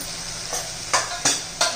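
Ground spices (coriander powder, turmeric and homemade masala) fry in hot oil in a pan for masale bhat, a soft steady sizzle broken by three or four sharp scraping stirs of a spoon against the pan.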